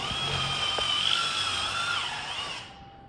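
A power drill whirs steadily at high pitch for a few seconds, then spins down and stops, close by.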